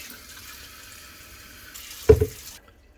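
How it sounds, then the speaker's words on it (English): Water is poured into a Logik L10KBS13E 2000W electric kettle in one brief splash after a quiet background hum, then it goes silent. "So let's introduce some water."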